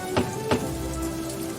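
Rain falls steadily as a storybook-reading sound effect, with two soft thumps near the start, then a continuous patter over a low steady hum.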